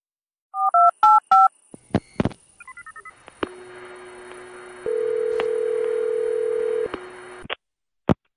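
Telephone keypad dialing for a call: a quick run of three DTMF beeps, then scattered clicks and a long steady hum-like tone with a louder stretch near the end. No one speaks.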